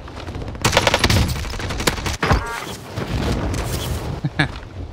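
Bursts of video game QBZ assault rifle fire, fired with no-recoil anti-recoil aim assist, rattle loudly through the whole span with a short gap partway, then resume in dense rapid volleys.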